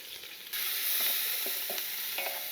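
Sliced onions and split green chillies for a paneer cashew curry hit hot oil, and a loud even sizzle jumps up and continues with light stirring clicks, no voices.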